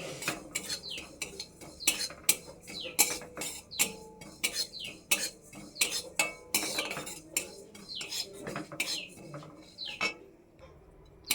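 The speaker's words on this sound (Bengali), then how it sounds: "জিরে ভেজে নিচ্ছি" Cumin seeds are dry-roasted in a pan, with a spoon or spatula scraping and clinking against the metal in quick, uneven strokes at close range and with no talking.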